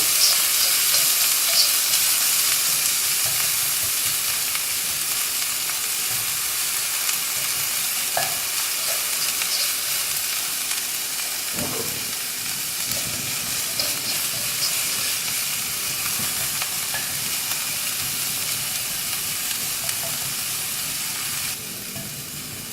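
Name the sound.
onion, garlic and ginger frying in a pan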